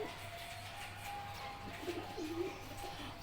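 A female Rampuri pigeon gives a few low, soft coos close by against a quiet room background, with faint murmuring in the distance.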